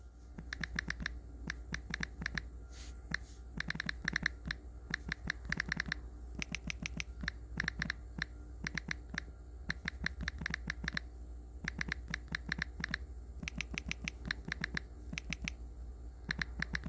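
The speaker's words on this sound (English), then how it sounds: "I was typing." Fingers type on a computer keyboard in steady, quick bursts of clicks separated by short pauses, fairly soft and close, with no voices over it.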